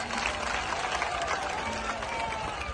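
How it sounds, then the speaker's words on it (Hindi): Loud, steady applause from an audience at a Holi celebration in Vrindavan, dense continuous clapping with a crowd murmur throughout. "तो एक बार जोरदार ताली बजाकर"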